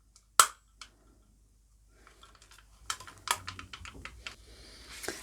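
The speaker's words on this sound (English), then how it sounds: "Once you've punched the notches out of all of our little envelopes" A circle punch snaps down on small paper envelopes, notching the tops for an ATC box folder: a sharp click, then a second, followed by a quick run of crisp cutting clicks, close and with no talk.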